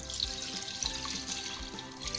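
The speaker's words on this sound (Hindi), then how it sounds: "इसके साथ ही हम इसमें डाल देंगे पानी" Water poured into a cooking pot holding beef, whole black peppercorns and salt for yakhni pulao, a steady close splashing gush that runs throughout without talk.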